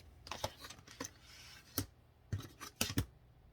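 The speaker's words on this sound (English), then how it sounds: "So here I cut out my square" Scissors snipping through a fabric square while crafting western-themed fabric magnets, a few sharp close cuts in uneven bursts, with quiet pauses between.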